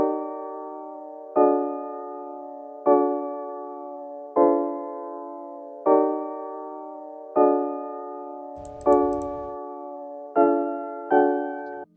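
A chord progression built from a one-shot pluck sample repeats in steady, evenly spaced plucked chords, each decaying before the next, with a brief low thump near the end.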